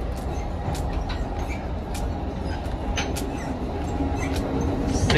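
An Amtrak Pacific Surfliner passenger train rumbles steadily along the tracks, heard onboard, a loud continuous roar with faint clicks and rattles over the top.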